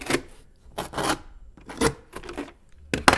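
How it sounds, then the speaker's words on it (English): Glued cardboard edges are rubbed down by hand in four or five close, raspy scraping strokes separated by brief pauses, with no voices. "And rubbing a bit on the inside as well, so that it doesn't come loose."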